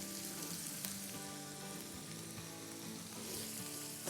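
Oil sizzles in a frying pan while tawa pulao is being cooked, giving a steady, close crackling hiss with no voices.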